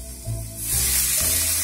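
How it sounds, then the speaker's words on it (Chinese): A fish fries in a hot pan as cooking wine is sprayed in for a Shanghainese fish soup, and a sharp hiss swells into a loud, steady sizzle close by. "两面煎透，喷些料酒，盖下锅盖"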